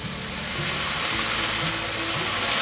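Shiitake mushrooms stir-fried in a hot pan, a steady close sizzle and crackle running throughout with faint scraping of a spatula turning them, no voices.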